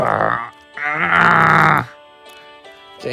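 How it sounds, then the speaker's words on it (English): Cartoon engine snoring in a Thomas the Tank Engine fan series, two loud drawn-out groaning snores with a quieter rumbling breath between, no talk over it. "stop snoring like that"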